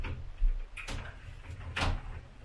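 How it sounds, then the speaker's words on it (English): Glass sliding shower doors in a cheap Johannesburg rental are moved along their track, giving two sharp, close clacks about a second apart over quiet room noise. "the shower, I like the sliding doors."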